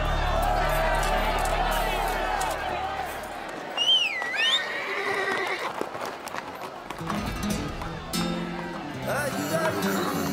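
A cartoon horse in an animated Zorro series whinnies with a brief rising and falling cry midway, set among galloping hoofbeats, crowd bustle and dramatic background score.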